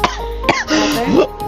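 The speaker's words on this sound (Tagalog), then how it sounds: "Wala pa nga, inuubo na agad." A close cough or throat-clearing erupts at the start, then blends into strained voiced sounds and a brief vocalization, all loud and near, during a playful couple challenge.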